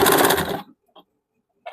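A sewing machine stitches a neck strip onto a blouse, running in a close, buzzing rapid burst that stops abruptly, then a brief pause and a short restart at the end.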